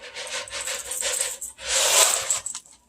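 Uncooked elbow pasta drops and rattles into a pan, a close, bright run of clattering bursts with a louder scattered spill near the end.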